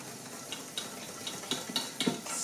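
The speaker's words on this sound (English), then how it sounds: "Whisk that in thoroughly" Baking powder being whisked into dry ingredients for matcha shortbread dough, a faint rhythmic series of light scraping strokes against a bowl, with a soft clink near the end.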